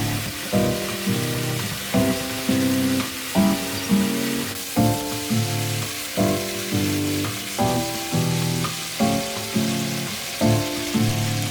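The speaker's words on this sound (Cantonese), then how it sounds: "咁個牛肋條煎到好似咁樣呢，就差唔多啦" Beef short ribs sear in a pot with a steady, close sizzle that swells and eases in a regular rhythm of repeated bursts throughout.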